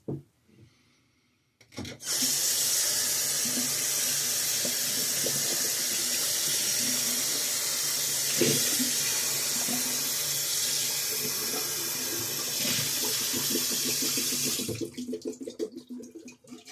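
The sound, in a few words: water tap running while rinsing a shaving bowl and brush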